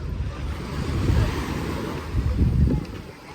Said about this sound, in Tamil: This is beach paradise.